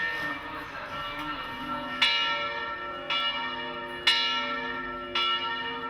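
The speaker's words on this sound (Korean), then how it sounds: "뒤이어 수많은 종소리가 시내 전체에 울려 퍼진다" Many church bells ring together at noon across Dubrovnik, a dense, steady peal with sharp new strikes landing about once a second, loud and reverberant, with no voices.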